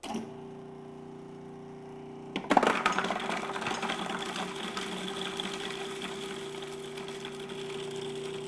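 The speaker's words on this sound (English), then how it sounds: "this is going to allow me to turn the machine on, drop the garlic in" A Cuisinart Prep 9 food processor chops garlic cloves; after a quiet motor hum, a sharp clatter as the garlic drops in gives way to a steady whirring, rattling chop that continues to the end.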